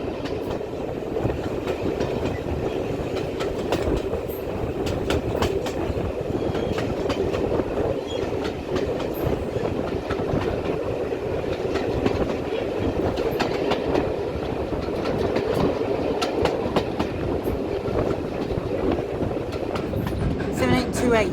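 A train on the West Somerset Railway, heading to Minehead, rolls steadily along the rails with continuous rumbling and rhythmic clickety-clack from the wheels, heard from on board, with voices faintly mixed in.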